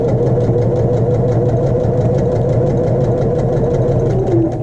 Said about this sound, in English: we're going to go ahead and start sewing